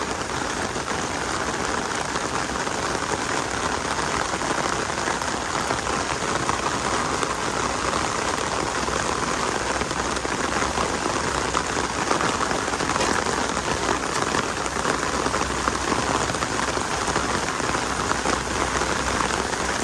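Steady rain pours onto a muddy driveway as a dense, even hiss of drops that holds unbroken for about twenty seconds, fairly close, with no voices.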